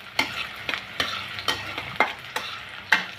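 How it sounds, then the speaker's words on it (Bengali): Sliced onion lightly frying in a pan while being stirred, each stroke giving a sharp scrape about every half second over a soft, steady sizzle. "পেঁয়াজটা একটু হালকা ভেজে নেব, বেশি ভাজার দরকার নেই, জাস্ট একটু নরম হলেই চলবে"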